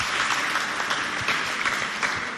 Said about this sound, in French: Applaudissez pour elle,